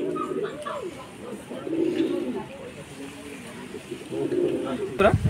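Madras pigeons give repeated soft, rolling coos close by, several calls in succession, with a faint voice speaking in the background and a brief clatter at the end.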